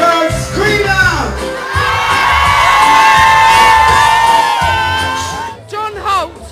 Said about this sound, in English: I want to get the girls scream out!